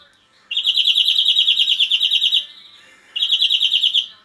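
A greenfinch sings in two bursts, a long rapid trilling phrase followed after a short pause by another, bright and close with a quiet background.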